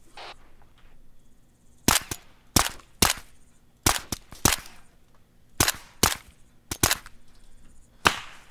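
Gunshots in ArmA 3 as lights get shot out, about a dozen sharp, loud cracks in irregular single shots and quick pairs over a quiet low hum, with no talking.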